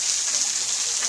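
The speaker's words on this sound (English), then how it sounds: "Wow, look at that waterfall." A waterfall seen on a family vacation, a steady broadband rush of falling water that stays fairly loud and even throughout, with a faint murmur of nearby voices.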